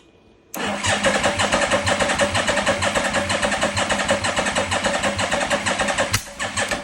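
A 1985 Yamaha Vmax motorcycle engine, with the choke on, kicks in abruptly and loud at close range, holding a rapid, pulsing mechanical churn for several seconds before briefly dipping near the end.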